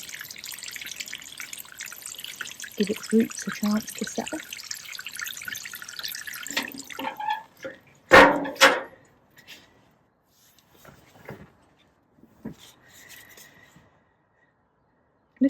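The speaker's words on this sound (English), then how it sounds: "Water the hole before it goes in." Water is poured into a planting hole for a fig tree on an allotment, a steady splashing gush for about six seconds that ends in a few thuds and knocks, then near silence with a brief spoken remark.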